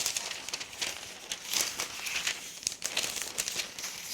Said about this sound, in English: So for our greased tin, we now line it with our greaseproof paper.